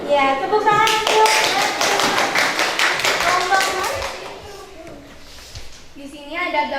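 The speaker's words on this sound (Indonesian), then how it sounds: "Ya, tepuk tangan dulu." Children in a primary school science lesson clap their hands in a fast, lively burst for a few seconds, with a teacher's and children's voices heard before and after.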